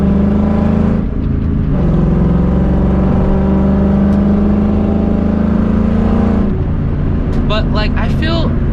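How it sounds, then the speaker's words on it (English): New Edge Mustang GT with Borla exhaust and 4.10 gears revving hard from inside the cabin, a loud steady droning engine note that drops off near the end under brief talk. "I'm not really annoyed by the quote-unquote drone or like the just the volume of the exhaust. Maybe it's because it's a Borla."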